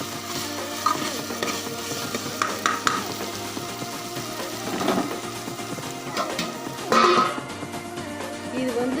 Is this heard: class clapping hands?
no